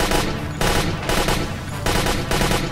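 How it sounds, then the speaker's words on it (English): Simonov rifle firing in the Stalin Subway video game, three loud close volleys of rapid gunfire in quick succession, each burst cut off by a brief gap. "Let me shoot for a couple of shots."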